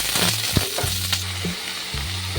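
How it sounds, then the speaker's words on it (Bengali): Bottle gourd being stirred in a frying pan for Bengali shukto, a steady sizzle of oil under scraping and clinking of a spoon against the pan, with a few sharper knocks, close and alone without talk. "লাউ দিয়ে আমি নাড়িয়ে দিচ্ছি।"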